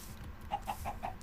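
A chicken in the Minecraft video game gives four short clucks in an even rhythm, clear over a soft low background hum.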